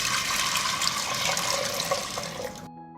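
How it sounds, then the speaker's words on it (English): Water pours steadily into a pot of 300 grams of white beans, a continuous close splashing gush that runs for a few seconds and then cuts off abruptly. "I pour water to cover the beans."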